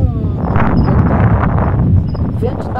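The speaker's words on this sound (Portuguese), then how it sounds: "O vento tá forte agora, né?" Strong wind buffets an outdoor microphone with continuous low rumbling gusts, while people talk over it throughout.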